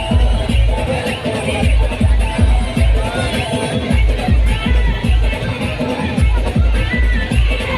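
Large crowd gathered for a tribal day rally in Khed, Maharashtra, a dense continuous hubbub with rhythmic low thumping from DJ music throughout, steady and loud.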